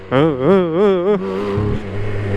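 A BMW K 1600 GTL six-cylinder touring motorcycle revs in rapid wavering pulses as traction control cuts in, then settles into a steadier engine drone, close and loud.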